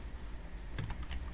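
Quick bursts of keystrokes on a computer keyboard while an SQL query is typed, a handful of close, crisp clicks in a short run with no talking.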